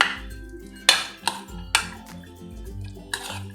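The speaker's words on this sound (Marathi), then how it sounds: "आता आपल्याला हे सर्व मिक्स करून घ्यायचं आहे" Spoon clinking against a bowl while chili flakes, oregano and salt are mixed in, probably with mayonnaise. Four or five distinct close taps and scrapes come at uneven intervals over a quiet background.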